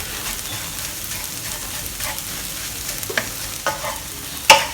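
Homemade sambal chilli with dried shrimp stirred in a pan, a steady close sizzle with occasional scrapes and knocks of the utensil, one sharper clack near the end.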